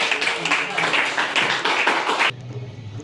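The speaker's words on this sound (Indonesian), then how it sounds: "Beri tepuk tangan dulu." A school class claps hands together in a short burst of brisk, close clapping lasting about two seconds, then it cuts off abruptly to quiet room tone.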